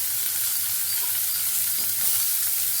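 Onions sizzling steadily in a hot pan for a mushroom curry, a loud continuous crackling fry close to the microphone with no talk over it.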